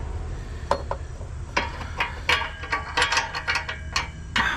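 A ratchet turning a socket on the O2 sensor of a Honda Civic Si, sharp clicking bursts in irregular runs, close and distinct over a low background.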